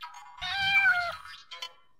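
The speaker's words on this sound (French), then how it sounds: "Enfin, tu verras un chat qui te crèverait les yeux." A cat meows once, a long, clear, close cry, followed by a brief softer vocal sound.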